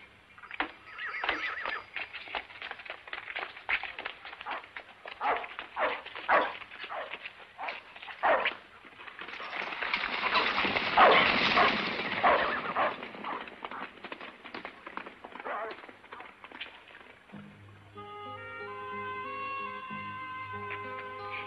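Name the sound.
dog barking and whimpering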